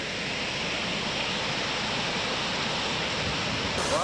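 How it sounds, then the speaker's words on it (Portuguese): Steady, full roar of the Cachoeira da Usina waterfall, a large cascade near a grotto, heard close and loud as unbroken broadband rushing water with no voices. "Devido a essa grande queda d'água"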